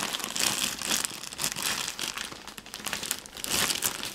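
Crinkling and tearing of a plastic-wrapped package opened by hand without scissors, a close, busy stream of crackles and crumples lasting the whole stretch with no talk.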